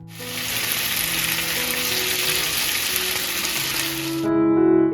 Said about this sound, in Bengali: গরম তেলে এক এক করে ভেজে নিচ্ছি